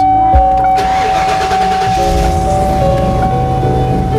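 An Airstream B190 van engine cranks briefly, then catches and settles into a steady, close idle with a constant hum.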